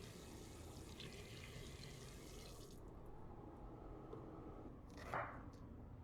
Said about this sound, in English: you want to make sure that you rinse them thoroughly on the inside